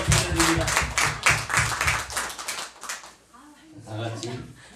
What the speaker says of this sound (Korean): 하나님께 감사의 박수 드립니다